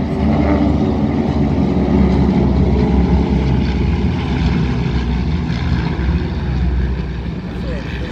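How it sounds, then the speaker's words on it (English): T-6 Harvard trainer aircraft taxiing out at an airshow, a steady loud rumbling propeller-engine drone with no break throughout, overlaid by a broad roar and faint background voices. "T6 and Harvards taxiing out now, the trainer formation coming in"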